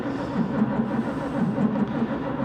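Starter of a 1941 Chevy engine fitted with a Carter W-1 carburetor cranks steadily without catching, giving a rhythmic, moderately loud mechanical churn throughout with no speech over it.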